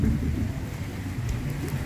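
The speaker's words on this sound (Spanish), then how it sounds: "Bueno, está lloviendo." Steady rain falling outdoors near a small bridge in San Juan Bautista, Suchitepéquez, Guatemala, a constant close hiss and patter that continues without pause under no talk.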